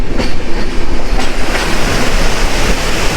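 A train crosses the Farakka Barrage at dawn, its wheels clattering in a loud, dense, continuous roar with rhythmic clickety-clack beats close by, and no voices.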